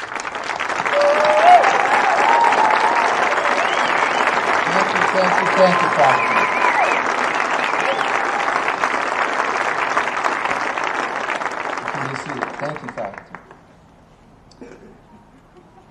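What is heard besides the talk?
audience applauding the faculty at a commencement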